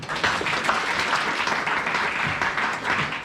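A church congregation breaks into sustained, dense applause that fills the space evenly at a fairly loud, steady level throughout.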